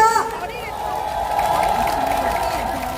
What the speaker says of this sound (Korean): 지도자들께 힘찬 박수 한번 보내주시기 바랍니다